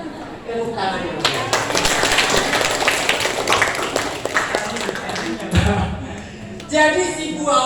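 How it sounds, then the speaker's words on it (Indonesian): Indoor audience at a children's reading workshop breaking into a burst of clapping that lasts several seconds, with voices talking around it. "Tepuk tangannya."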